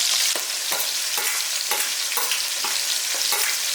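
Chicken chilli frying in hot oil, a loud, continuous sizzle with regular scraping stirs roughly every half second, close up and with no voices.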